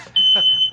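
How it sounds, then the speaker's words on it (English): Fire alarm sounding a single sustained high electronic beep of about half a second, loud and steady, with a voice briefly audible around it. "So this fire alarm's going off."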